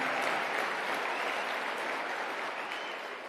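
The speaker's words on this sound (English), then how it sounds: "I'll take some applause on that." Audience applause at a political talk, a steady dense wash of many hands clapping that holds for several seconds and tapers slightly toward the end, with no voices over it.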